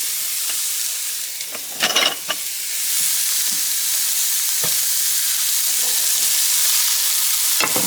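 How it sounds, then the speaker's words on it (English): Onion and garlic sautéing in a pan for pasta fagioli, a steady close sizzle under occasional scraping stirs with a few sharper clinks of the utensil. "We're going to saute it a little bit."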